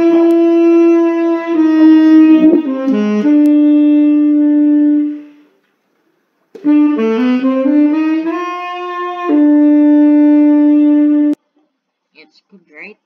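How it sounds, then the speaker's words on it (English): Solo saxophone plays a melodic phrase of held and moving notes, pauses for about a second, then plays a second phrase with a rising run, ending on a long sustained tone. "So here's the saxophone sound."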